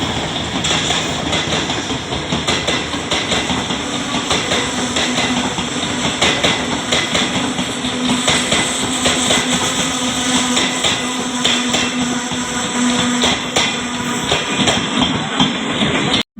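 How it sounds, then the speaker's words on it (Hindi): A freight train hauled by a ZCU 30 locomotive pulls into Bahawalpur railway station, with a loud, continuous rumble and rhythmic clanking of wagons passing close by, a steady engine drone underneath. "बहावलपुर रेलवे स्टेशन पर ZCU 30 के साथ माल गाड़ी धूल उड़ाती हुई आ रही है।"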